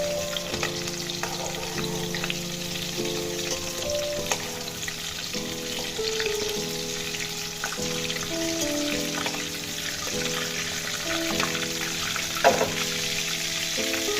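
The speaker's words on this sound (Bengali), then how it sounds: "বাকি চিংড়ি মাছগুলো ভেজে নেব" Prawns fry in oil, a close, continuous crackling sizzle with occasional stirring scrapes throughout, no voices.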